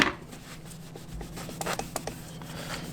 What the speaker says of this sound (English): I'm going to go ahead one more wipe through